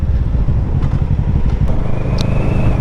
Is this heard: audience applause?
no